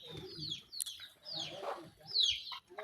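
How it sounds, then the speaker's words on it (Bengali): Hen on a rural poultry farm clucking and calling in several short bursts, mid-distance, with other birds chirping around it and no talk. "এই মুরগিটা প্রায় 8টা বাচ্চা দিছিল।"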